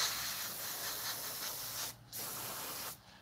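An airbrush or spray gun hisses steadily while spraying paint on a scale model, a soft continuous spray that stops briefly twice before resuming.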